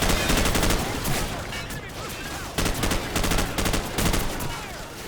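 Rapid automatic gunfire from Call of Duty 4: Modern Warfare rattles in loud sustained bursts with brief pauses between them, dense and close, like machine-gun volleys in a firefight.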